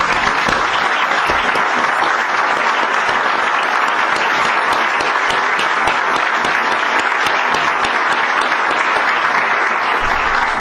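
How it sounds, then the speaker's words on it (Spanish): Sustained applause from a seated audience at a literary gathering, dense and steady clapping holding at an even, loud level throughout with no talk. "Javier, Clara, de verdad, un aplauso"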